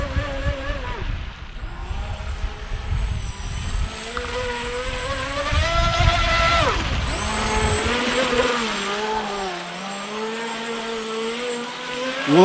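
A Volantex V792-4 RC boat running on a 3S Lipo battery makes a high, whining motor buzz whose pitch sweeps up and down as it speeds across the water, loud and close with a churning wash underneath.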